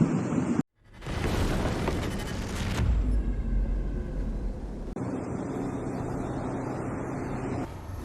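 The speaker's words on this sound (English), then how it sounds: "multiple major secondary explosions at Russia's Marinovka Airbase in Volgograd Oblast after a successful Ukrainian drone attack" Large secondary explosions at Marinovka Airbase in Volgograd Oblast after a drone attack, heard from a distance as a sudden cut, then a sustained rumbling roar with a second deep blast midway, fairly faint overall.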